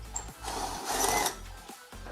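A drill runs through a 7/16 hole from the back side to chamfer it while an ARB-style air locker is being installed. The quiet, close whirring comes in short bursts, with a louder grinding stretch in the middle.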